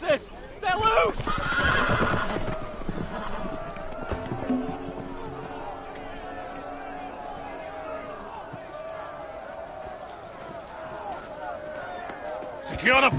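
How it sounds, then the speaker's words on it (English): Loose horses neigh loudly and gallop in a dramatic film scene, a sharp whinny up front followed by pounding hoofbeats and commotion, with voices calling out over the action. "The horses! They're loose!"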